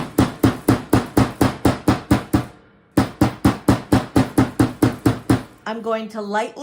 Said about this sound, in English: I'm going to use just a regular hammer